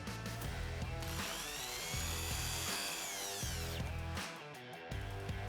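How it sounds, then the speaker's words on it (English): A power drill or driver works Phillips screws out from under the steering column of a Honda Pilot, whirring in close, loud bursts with brief pauses and rising and falling pitch. "Under the steering column, there are 3 Phillips screws that we want to remove."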